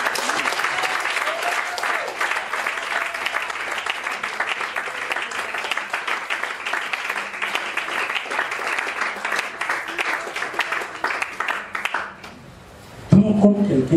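A church congregation at a seminar bursts into sustained loud applause that carries on for many seconds, then fades out before a voice resumes speaking near the end.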